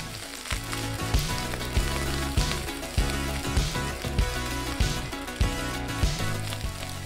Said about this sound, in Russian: добавляем в сковороду немного растительного масла и выкладываем жариться рис